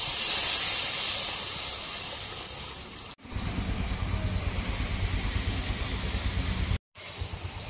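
Water poured into frying spice paste for a paneer gravy gives a loud, steady hiss and bubbling sizzle that carries on continuously with two brief cuts, no voices.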